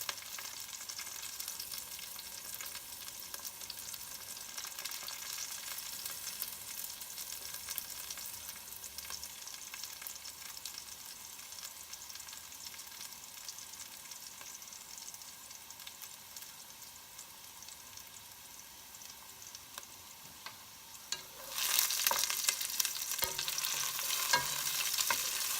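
Garlic sizzles softly in a pan for a long stretch, a low even hiss with faint stirring, then the frying suddenly grows louder and brighter near the end; no one speaks.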